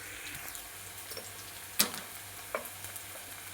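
Onion sizzles gently in a hot pan while a Kolhapuri chicken kharda is cooked, with a low steady frying hiss and a couple of sharp clinks from stirring.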